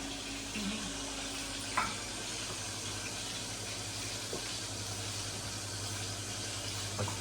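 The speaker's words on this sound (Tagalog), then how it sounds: "Ako po ay nagpiprito na ng aming ulam na karning baboy." Pork chop frying in a pan at home, giving a steady broadband sizzle throughout with a few faint clinks, no talk.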